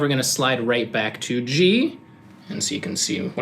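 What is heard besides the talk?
No everyday noise stands out behind the speech.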